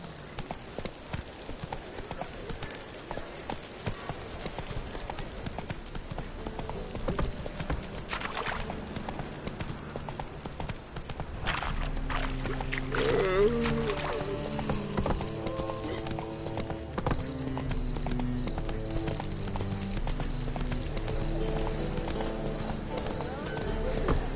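Horse hooves clip-clop at a steady walking pace under game music and voices while a rider travels in a video game, likely The Witcher 3, and a whinny is heard at one point.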